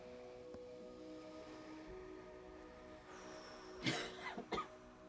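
A few short coughs from people at a retirement retreat relaxation session, arriving late and close together over a quiet background hum.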